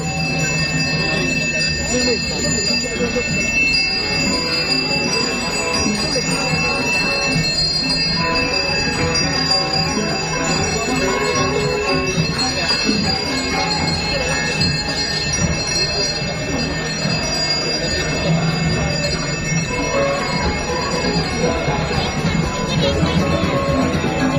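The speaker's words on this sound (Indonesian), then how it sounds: "Dan pada barisan Pet Ayadaur hidup ini diiringi dengan barungan ensemble gamelan Gong Suling." A Balinese Gong Suling gamelan ensemble plays loudly at a festival opening parade, with sustained metallic bell tones, flutes and layered percussion. A male announcer's voice talks over the music much of the time.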